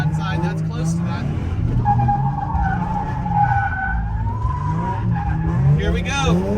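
Car drifting on a slick competition track, tires skidding and squealing continuously over a steady engine drone, with a voice talking over it.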